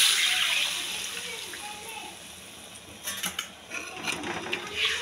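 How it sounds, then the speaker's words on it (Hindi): Water pours into an egg curry gravy cooking on the stove, with a bright hissing splash fading into sizzling and bubbling, then clattering and stirring sounds. "तो देखिए अब ये ग्रेवी में हम पानी डालेंगे,"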